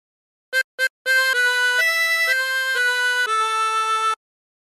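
A 16-hole tremolo harmonica plays a short Bella Ciao phrase alone: two quick staccato notes, then a run of sustained reedy tones stepping through the melody, clear and close.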